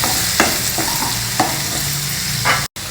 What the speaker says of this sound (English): fry the shallots in the oil.